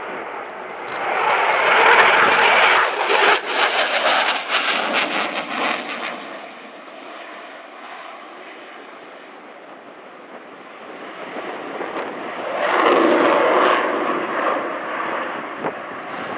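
An RAF Eurofighter Typhoon jet flies a display routine at RIAT 2013. Its engine roar swells loudly as it passes, fades to a distant rumble, then builds again on a second pass.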